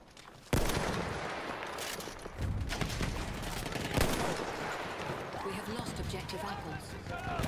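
Gunfire rattles in a chaotic World War I battle in the video game Verdun, with repeated rifle and machine-gun bursts near and far while players talk over the shooting.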